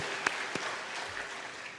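A church congregation at a Sunday afternoon service gives a short round of applause, a soft, even patter of many hands heard at a distance, fairly quiet throughout.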